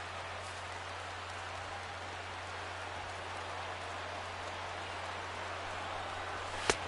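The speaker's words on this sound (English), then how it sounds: "with the light rain falling the way it is here at game time" Light rain falls at a ballpark in MLB The Show 16, a steady soft hiss spread evenly throughout with a low hum underneath and a faint tick near the end.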